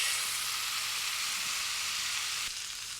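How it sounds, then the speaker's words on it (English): A smash burger patty of ground brisket trimmings sizzles on a hot cooking surface, a steady, bright crackling hiss heard close and alone throughout. "I like that sizzle."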